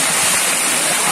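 Khoiyachora waterfall in hill country pouring water down the rocks, a loud, steady broadband roar of falling water that fills the whole moment without pause.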